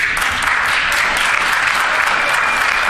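Legislators in a provincial House chamber applaud a colleague's supplementary question with loud, continuous clapping from many hands, unbroken by speech.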